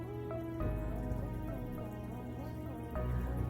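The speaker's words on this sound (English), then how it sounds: "You can finally see the little waterfall." A small waterfall trickles and drips inside a planted home aquarium with moss, ivy and pothos, a soft continuous splashing heard faintly and close by with no talking.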